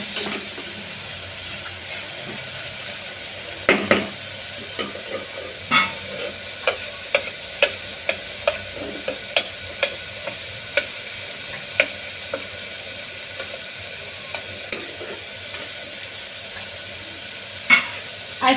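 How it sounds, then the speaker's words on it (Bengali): Dalia porridge cooking in a pan, stirred gently with a utensil: a steady run of light scraping clicks and taps over a quiet bubbling background, no one talking. "হালকা করে নাড়িয়ে নেবো আমি এবার।"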